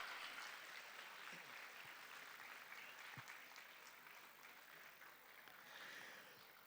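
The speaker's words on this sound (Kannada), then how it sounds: "ಚಪ್ಪಾಳೆ ನಿಲ್ಬಾರ್ದ್ರಿ, ಅವ್ರು ಬರೋವರೆಗೂ ಕೂಡ ಬರಲಿ ಚಪ್ಪಾಳೆ." Steady audience applause greets a guest of honour at a school's seventeenth annual day celebration, a continuous broad wash of clapping that sustains throughout without pause.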